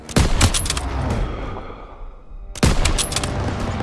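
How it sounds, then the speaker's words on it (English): Bursts of machine gun fire crack out in a Call of Duty WW2 battle, two loud rapid volleys separated by a short lull filled with combat din. "Daniels, hit that MG!"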